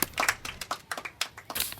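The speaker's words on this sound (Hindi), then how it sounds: "इसके लिए तालियां बजाओ।" Students in a classroom clap in a small, sparse burst, with distinct individual claps arriving in uneven clusters, close and fairly loud.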